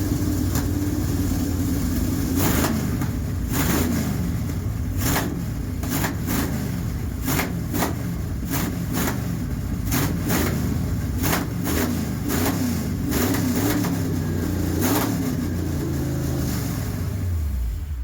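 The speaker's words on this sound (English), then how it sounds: "That would be the throttle sticking." A 440 big block Mopar V8 with a sticking throttle holds a loud, steady roar for the whole clip. Its deep rumble stays close and continuous, with a run of rapid revving pulses and no voices over it.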